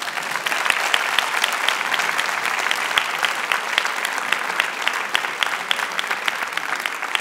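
A crowd at an evening Opcommerce event in Lille gives a group of apprentices a loud, sustained round of applause, with thick, even clapping and sharp individual claps standing out throughout.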